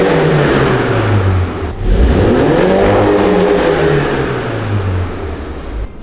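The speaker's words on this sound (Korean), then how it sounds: "이 차량 배기음 듣고 갈게요" A third-generation Mini Cooper S JCW revs its exhaust up close and loud. The engine note climbs and falls through a few blips before settling back toward idle, with no talking.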